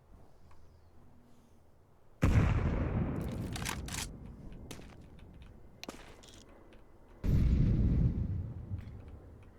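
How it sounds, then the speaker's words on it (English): A grenade blast in a tactical shooter game lands as a loud, sudden burst that decays slowly, then a second heavy boom follows a few seconds later, with scattered sharp clicks and low rumble in between. "Throwing a grenade."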